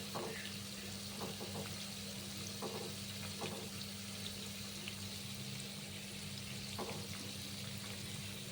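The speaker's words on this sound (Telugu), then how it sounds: "బాగా రెడ్ కలర్లోకి వచ్చిన తర్వాత ఒకసారి కలిపి మొత్తం ఫ్రై అయిందో లేదో చూసుకొని" Cauliflower pakodi fry in hot oil, a steady soft sizzle and bubbling with occasional faint pops and clinks, low in level and continuous.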